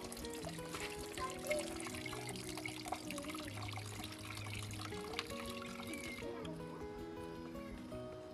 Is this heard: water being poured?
yes